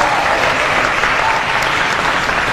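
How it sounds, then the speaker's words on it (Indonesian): Dense, steady applause from a school audience of OSIS student council leaders at a forum in Jakarta, a continuous wash of clapping hands filling the hall at even loudness for a few seconds with no voices over it. "Tepuk tangan buat ketua kita."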